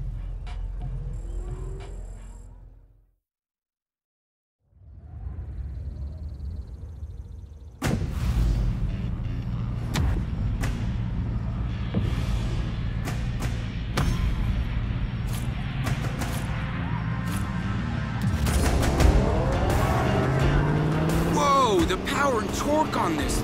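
Souped-up race car in Need for Speed Payback with a big, powerful engine roaring up and holding a loud growl, tires screeching near the end, after a brief silence and quieter sounds at the start.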